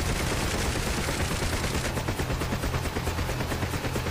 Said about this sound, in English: Wait, how are you firing both guns?